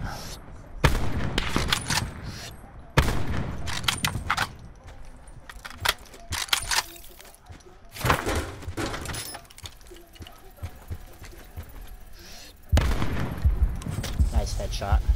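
Bursts of gunfire in a shooter video game, several sharp volleys of rapid shots separated by quieter gaps, loud and close with game ambience between.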